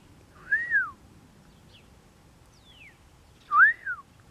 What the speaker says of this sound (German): Man hört ein bisschen die Vögel zwitschern.